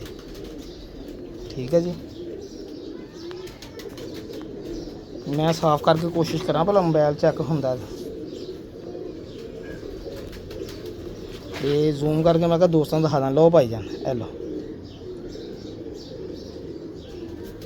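A female Ferozpuri pigeon coos in two short bursts of soft throaty calls, close by, with someone talking over and between them.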